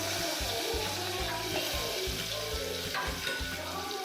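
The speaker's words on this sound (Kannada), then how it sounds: "ಹಾಕ್ಕೊಂಡು ಚೆನ್ನಾಗಿ ಫ್ರೈ ಮಾಡ್ಕೊಳ್ಳಿ. ಗೋಲ್ಡನ್ ಕಲರ್ ಬರೋವರೆಗೂ ಫ್ರೈ ಮಾಡ್ಕೊಳ್ಳಿ ಆನಿಯನ್ನ" Chopped onion frying in hot oil for an Andhra-style spinach dal, a steady close sizzle with faint stirring scrapes throughout.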